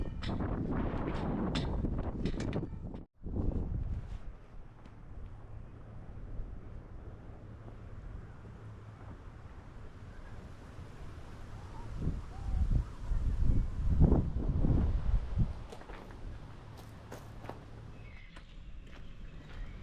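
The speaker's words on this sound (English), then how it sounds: "Very windy here." Strong wind buffets the microphone on a hiking trail at Lake Garda, Italy, in a low, continuous roar, with louder gusts swelling toward the middle and some scuffing footsteps.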